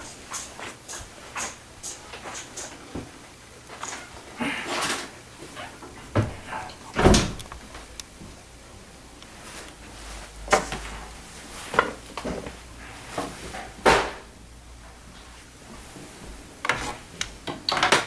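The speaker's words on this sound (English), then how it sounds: "So we're going to take the drawer off." A wooden desk drawer is pulled off its runners: scattered knocks, scrapes and sliding thumps at close range, with a few sharper bumps amid quieter handling noise and no talking.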